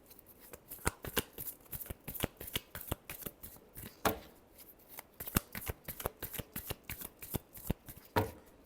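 Tarot cards are shuffled by hand in quiet, soft bursts of riffling flicks and taps, irregular and close, with no talk during the shuffle.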